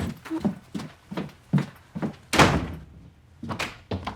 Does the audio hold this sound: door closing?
yes